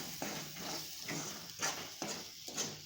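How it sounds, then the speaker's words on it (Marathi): Masala paneer gets stirred in an oiled pan, with a continuous sizzle and a few scraping strokes of a spoon against the pan, close and even, with no voices. "एकदा हलवून घेते चांगलं"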